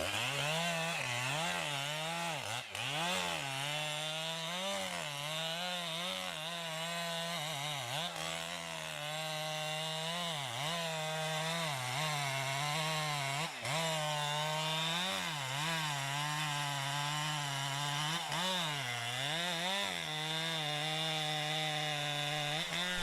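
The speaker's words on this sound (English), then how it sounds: "The operator positions the saw at the base of the trunk, selecting the notch direction carefully to control the fall." A chainsaw engine drones loudly and steadily, its pitch dipping and rising as the blade bites into the base of a tree trunk, running continuously without pause.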